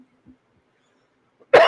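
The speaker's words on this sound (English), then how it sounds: "Hopefully by our next show I will have gotten rid of this cough." A man with a lingering cough gives one sharp, loud cough near the end, after a few faint throat sounds in an otherwise quiet room.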